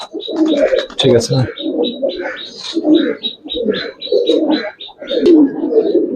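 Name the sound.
Giribaz and coloured pigeons cooing in a loft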